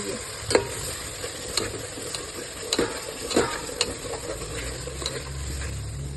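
Vegetables and masala sautéing in a pan for masale bhat, a steady sizzle under repeated sharp scraping and tapping stirs at an uneven pace.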